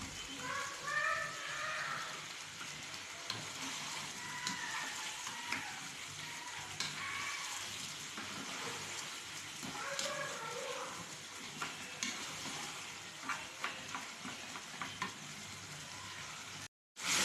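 Mutton, masala and tomatoes sizzle and fry in a karahi for a Karachi-style mutton karahi, a soft continuous crackle broken by occasional stirring scrapes and clinks.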